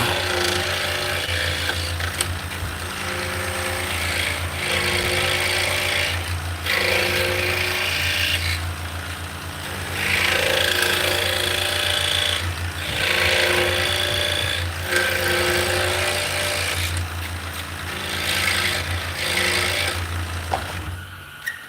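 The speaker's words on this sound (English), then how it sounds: "So this is the biggest benefit of a scroll saw is the ability to make internal cuts." A scroll saw makes an internal cut, its blade buzzing and rasping steadily through the workpiece in repeated bursts, close and fairly loud, with a constant low motor hum underneath.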